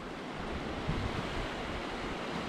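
A large volume of water rushing out of the Maričevac tunnel into the Baćinska lakes makes a constant, loud, broad roar with some wind buffeting the microphone and no talk.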